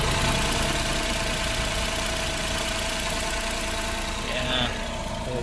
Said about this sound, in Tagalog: That's the K6A engine, 12 valve, 660cc.